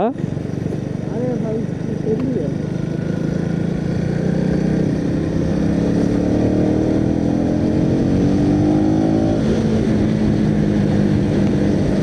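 Motorcycle ridden on a weekend trip to Aare falls, recorded from the rider's position with a steady loud engine drone and heavy wind rush throughout, the pitch shifting gradually as the engine revs, with someone talking over it.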